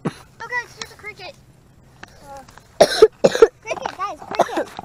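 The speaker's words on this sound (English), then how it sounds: "I just coughed because I got something in my throat." A person coughs in a quick cluster of harsh bursts midway, close by, set among stretches of speech from people outdoors.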